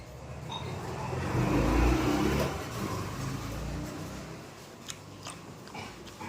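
Someone bites into and chews a country guava, with soft crunchy bites and wet chewing close up over a low rumbling background, no speech.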